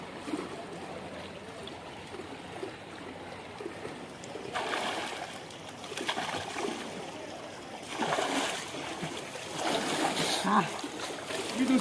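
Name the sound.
people splashing into swimming pool water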